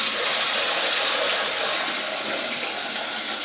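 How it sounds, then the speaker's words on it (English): Water runs steadily from a tap as three pints are measured out for making grape wine at home, a continuous, fairly loud gushing hiss with no pauses. "So let's get 3 pints of water."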